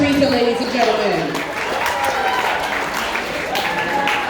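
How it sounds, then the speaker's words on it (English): Wedding guests at a reception clap for the bride's sisters after their speech, a sustained crowd applause with cheering and voices layered over it, fairly loud and even throughout. "Let's keep a round of applause going for Katie and Teresa"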